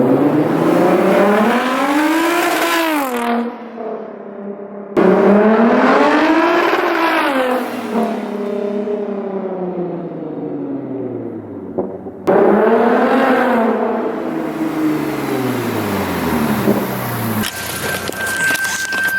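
A Lexus IS350 with a cheap aftermarket exhaust makes three loud flybys, each engine note rising through the gears and then falling in pitch as the car speeds past and fades.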